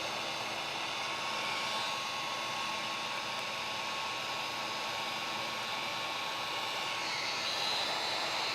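A heat gun warms tint film while it is pressed onto a car tail light, giving a steady, loud blowing whoosh that holds level throughout without a break.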